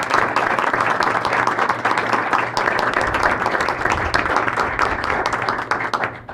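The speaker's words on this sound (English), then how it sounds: "it deserves a round of applause." A room at a board of education meeting applauds a retiring board member after 21 years, a steady clatter of many hands at close range with a faint hum beneath, tapering off at the end.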